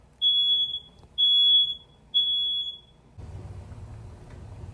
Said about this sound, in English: Uh-oh, smoke alarm.